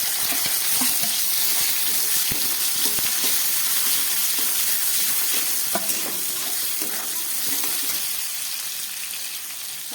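Chopped onion frying in hot oil with whole garam masala, cardamom, cloves and cinnamon for a fish kalia, a loud steady sizzle with occasional stirring clicks throughout, no talking.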